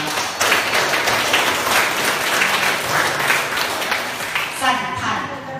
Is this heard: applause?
yes